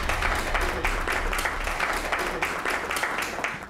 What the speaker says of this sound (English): Clap for yourselves for being here.